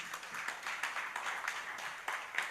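A church congregation applauds for the Lord with a steady, moderate round of many hands clapping that carries on throughout.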